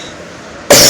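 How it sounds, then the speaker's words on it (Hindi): A single loud cough bursts out abruptly near the end from someone with a cold, after a quiet stretch of low room noise. "खांसी जुकाम लग रहा है इसलिए बीच में खांसी वासी आ जाती है"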